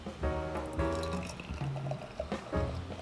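Coney Island Mermaid Pilsner beer is poured into a glass, a soft, close liquid gurgle and fizz under faint background hum and a few tonal sounds.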